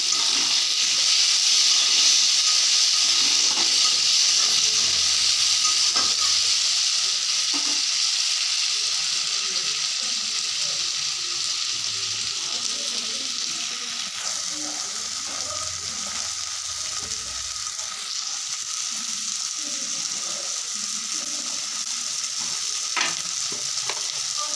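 Chopped tomatoes frying in a hot pan give a steady, close sizzle and hiss that runs the whole time, with a few light stirring knocks and no talk.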